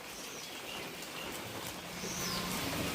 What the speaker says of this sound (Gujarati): અને વરસાદ તો એટલો સરસ આવી રહ્યો છે ને, ધીમો ધીમો